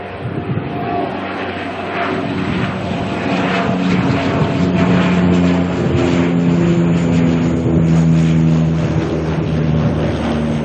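A Malaysia Airlines airliner departs Auckland Airport, its engines giving a loud, continuous jet roar that stays steady and close throughout with a low rumbling undertone.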